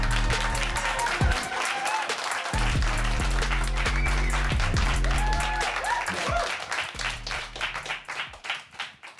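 An audience claps loudly for a rapper arriving at a Q&A event, dense sustained applause that thins into scattered claps near the end.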